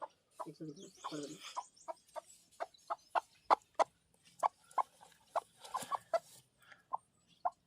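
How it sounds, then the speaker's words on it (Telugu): A brooding hen sitting on eggs gives short, sharp clucks in a steady, evenly spaced rhythm. The clucks sound close and clear against a quiet background, with a few softer murmuring notes at the start. "ఫైనల్గా రాహుల్ బాబు చెప్పిన విధంగా మన కోడిని అయితే పొదిగించేసాను"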